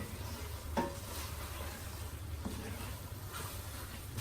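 Chana dal frying in oil in a kadhai, a soft, steady sizzle that stays faint and even throughout, with a couple of brief clinks from stirring.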